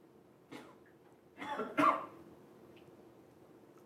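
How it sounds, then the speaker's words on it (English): Someone coughs indoors during a marketing class lecture, with a short cough followed by two stronger, harsher bursts close together, then quiet room tone. "Are you coughing?"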